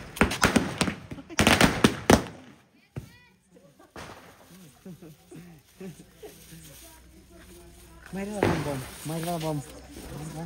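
Diwali firecrackers go off at home in sharp, loud cracking bursts, a rapid cluster at the start and then a few more, with people talking in between and after.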